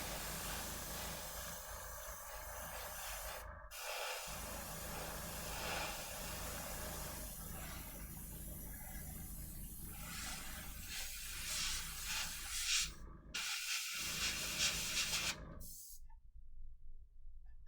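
An airbrush hisses steadily while spraying paint onto a miniature for a charity Stompa build, a broad continuous hiss with several brief pauses where the trigger is released, close by.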